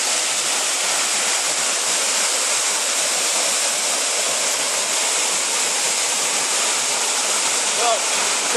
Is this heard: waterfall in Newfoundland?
yes